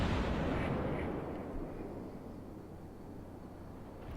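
Naval artillery booms in World of Warships: a loud, deep blast with a rumbling tail that slowly fades, heard alone and close.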